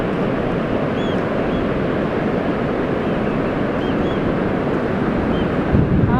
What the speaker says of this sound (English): Sea looks lovely and sounds beautiful as usual.